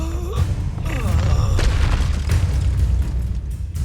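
Incendio fire spell cast in Hogwarts Legacy, several booming whooshes and fiery bursts in quick succession over a low rumbling game soundtrack, loud and close.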